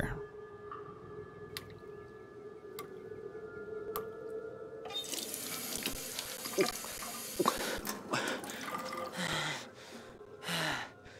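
Water runs from a tap in the game As Dusk Falls. It starts abruptly after several quiet seconds, a steady close rush of splashing with a few louder surges.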